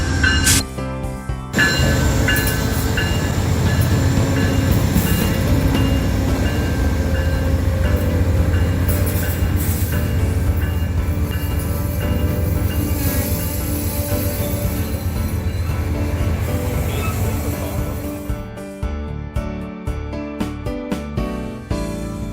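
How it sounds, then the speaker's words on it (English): The Amtrak Texas Eagle passenger train rumbles past close by with a continuous heavy roar and rattling wheels, then fades to rhythmic clicking and clanking as the cars slow. "And here comes our train, the Texas Eagle"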